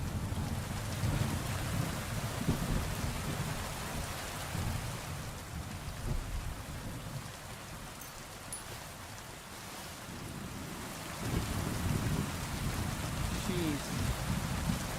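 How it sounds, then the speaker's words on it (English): Thunderstorm in the medieval video game Kingdom Come Deliverance 2, dense steady rain pouring down with deep thunder rumbles swelling and fading across the scene. "Storm is intense."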